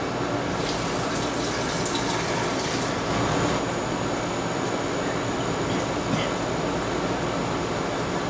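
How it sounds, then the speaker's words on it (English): Water kefir is poured through a strainer and a funnel, giving a steady, close trickling and splashing stream of liquid that runs without pause for several seconds. "So what we have is a strainer to catch the kefir grains, a funnel to funnel the kefir water into it."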